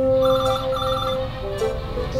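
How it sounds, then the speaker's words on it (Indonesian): A phone rings for an incoming call with a repeating electronic ringtone melody, loud and close over a low background hum, with no talking. "Bentar, ada telepon dari Pipit."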